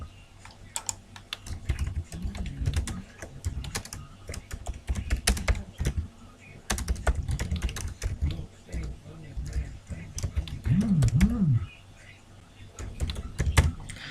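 Rapid clicking of keys as a welcome message is typed on a computer keyboard, in uneven bursts with brief pauses, heard alongside a man's intermittent speech.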